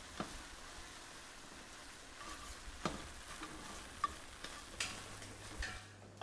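Crab filling with cilantro stirred in a pan during a quick sauté, a faint, quiet sizzle broken by scattered light utensil taps and clicks, with no talking.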